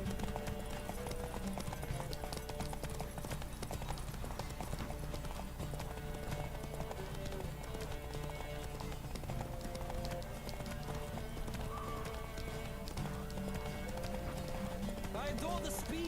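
Horse galloping at speed in The Witcher 3: Wild Hunt, steady rapid clip-clop hoofbeats running throughout under a game music bed, with an occasional whinny and someone talking over it.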